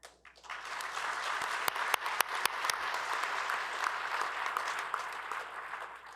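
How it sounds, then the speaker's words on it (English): Audience applause at a plenary session of a large global forum, a sustained wash of clapping from a big hall with a few sharp, close claps standing out early on. "Let's give them all one more round of applause."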